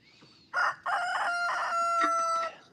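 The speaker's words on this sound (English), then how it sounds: "Letting out a cock-a-doodle-doo." A rooster crows on a farm with goats nearby, one clear drawn-out cock-a-doodle-doo preceded by a short cluck, fairly close and standing alone without talk.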